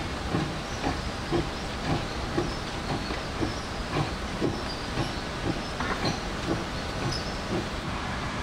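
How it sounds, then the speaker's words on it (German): Fireless steam locomotives built by Orenstein & Koppel in 1928 and 1929, running on 700 mm gauge track in Java, give a steady steam hiss with rhythmic chuffing beats, moderately loud and continuous. "planmäßig eingesetzte feuerlose Dampfloks. Beide von Ohrenstein und Koppel."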